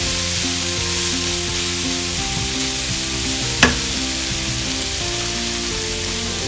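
Vegetables sizzle loudly in a pan as they are mixed with salt and black pepper, a constant crackling hiss with one sharp utensil knock midway, while music plays in the background.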